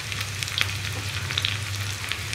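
Sliced onion and garlic frying in hot oil with popped mustard seeds for a pumpkin curry, a steady close sizzle with a low hum underneath and a few brief crackles, no talking.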